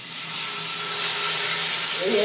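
Creole chicken sears in a hot pan, a steady broad hiss that swells gradually and stays loud throughout.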